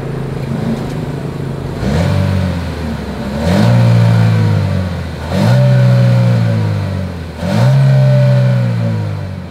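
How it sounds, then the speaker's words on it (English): A 2023 Chevrolet Equinox engine revs up sharply four times, each burst of throaty exhaust rising and then settling back to a steady idle, loud and close. "As always, here is that exhaust clip."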